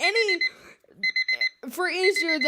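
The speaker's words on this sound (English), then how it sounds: "my alarm clock could drive me insane" A digital alarm clock beeps four quick, shrill pulses in a short burst, with a voice talking before and after it.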